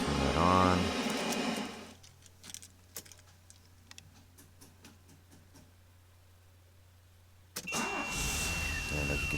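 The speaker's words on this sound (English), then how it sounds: "And as you can see, it starts up the car fine." DeLorean DMC-12 started with an Axxess Plus 51R replacement key: a whirring crank in the opening second, then a steady low idle, a series of sharp clicks and handling noises, and a louder burst of noise near the end.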